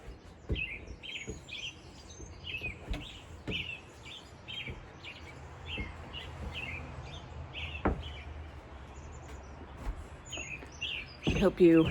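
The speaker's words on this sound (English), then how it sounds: "let you listen to the birds" Repeated bright chirps and short song phrases from birds at dawn in spring, some near and some farther off, over a quiet background with a few soft knocks.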